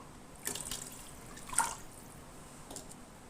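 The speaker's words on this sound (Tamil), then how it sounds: "மீதி இருக்க 4 உலக்கு தண்ணி சேர்த்துக்கிறேன்" Water is poured into a pot of rice and masala for vegetable biryani, producing faint, quiet splashes with a few brief louder spurts.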